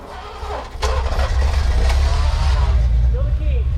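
A Ford Mustang Foxbody GT, left sitting for 19 years, cranks and fires up, its engine catching into a loud, rough running rumble that continues steadily, with people talking nearby.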